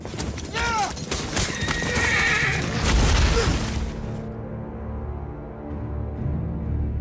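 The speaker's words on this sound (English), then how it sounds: "That's 40 horses charging full speed at Kit Harington." Cavalry horses charging in a staged battle scene, with loud whinnies and a rumble of galloping hooves and booms that cut off suddenly into low, quiet sound, while a voice talks over it.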